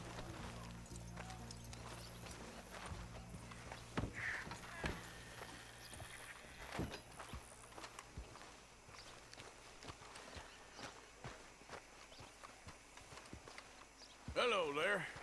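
Horse hooves clop at a walking pace in Red Dead Redemption 2, steady moderately loud hoofbeats under background voices, with a louder flurry near the end.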